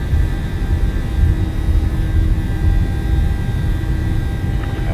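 Boeing 737-800 jet engines in a PMDG flight simulator roar at full takeoff thrust on Trondheim's runway 09, a dense, steady low rumble with faint engine whine, continuous and loud.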